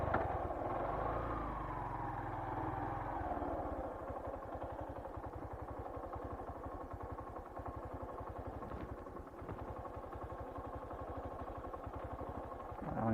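A Yamaha YTX motorcycle engine labours up a sticky muddy slope on a rural trail, a steady close mid-pitched drone with rapid rough pulsing that runs continuously with no talk.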